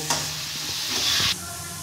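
Onion, garlic and chili fry hard in a pan for a red spinach dish, with a sharp close sizzle that swells for about a second as they are stirred and scraped, then drops back to a softer frying hiss.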